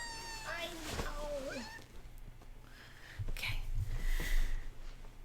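A pet cat meows indoors with a rising, wavering cry near the start, then another softer mew later, while a person talks and other sounds carry on in the background.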